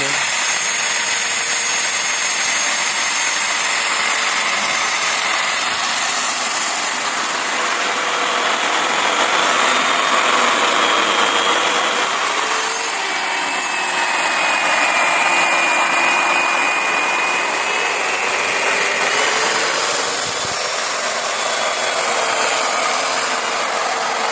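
An electric saw cuts through an aerated concrete (gas) block to shape a U-block, giving a continuous loud, gritty whine with a hissing rasp. The pitch wavers slightly as the blade moves along the cut.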